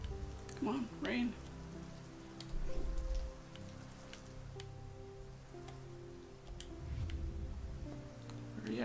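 Light rain patters steadily on a surface in a video game, with scattered drops ticking, while a voice murmurs briefly in the background.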